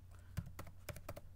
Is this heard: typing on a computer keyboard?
yes